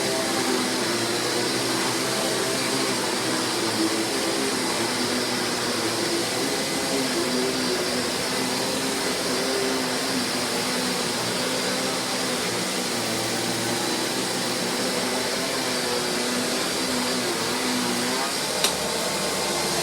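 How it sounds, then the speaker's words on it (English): A Riccar 8955 upright vacuum cleaner runs steadily at close range, a continuous loud motor whine and airflow rush holding even throughout, with a brief click near the end. "you do fingertip on off with this vacuum"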